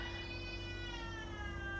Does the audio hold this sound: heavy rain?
no